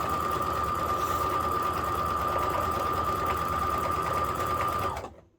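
Sewing machine stitching two fabric pieces at full speed, a fast continuous whirring hum with a steady needle chatter, close and even, stopping abruptly at the end.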